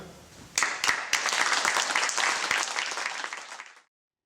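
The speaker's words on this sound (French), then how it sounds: "je pense que vous avez entendu les applaudissements" Applause at a French Judo Federation awards ceremony honoring a 7th dan, a burst of many hands clapping that swells quickly, holds steady for about three seconds, then cuts off abruptly into silence.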